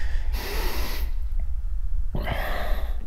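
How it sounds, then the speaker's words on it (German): A character in the game Overclocked breathes heavily, with two loud, harsh, snorting breaths close up separated by a quieter pause, over a low background hum. "Du kannst irgendwie schwer atmen, oder, Kollege?"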